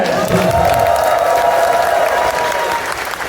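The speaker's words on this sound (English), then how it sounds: "one last time, huge round of applause and great cheer for Branston!" Loud, dense applause and cheering from a large audience fill the hall at the closing ceremony of the ConFuzzled 2024 furry convention, sustained throughout with whoops rising above the clapping.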